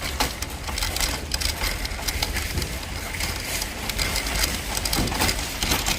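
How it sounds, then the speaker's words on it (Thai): Steady rain pours down outdoors in a dense, even patter, loud and continuous, with scattered sharper drops hitting nearby surfaces. "ฝนตกนะคะฝนตกนะคะ"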